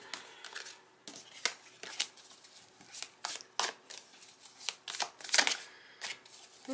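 A deck of tarot cards is shuffled in a run of quick riffling bursts with brief pauses between them, close and moderately loud with no talking.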